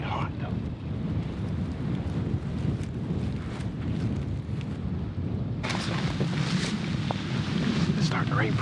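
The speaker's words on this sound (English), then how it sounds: "It's starting to rain pretty good." Steady rain falling outdoors during a spring turkey hunt in the Iowa woods, with low thunder rumbling and wind buffeting the microphone throughout; the rain sound intensifies in the second half.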